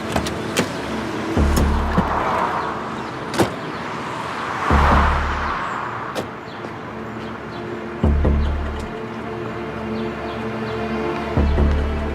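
A car drives steadily along with a constant engine and road rumble, broken by several heavy low thuds, then slows and comes to a stop. No one speaks.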